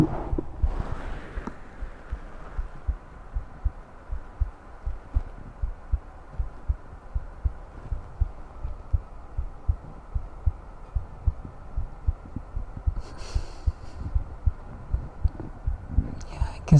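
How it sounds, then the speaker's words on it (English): A steady, rhythmic heartbeat from the video game Sky Factory 4 thumps low and soft throughout, with a faint hum underneath and a few brief noises over it. "I guess you could say vampires have healthy heartbeats"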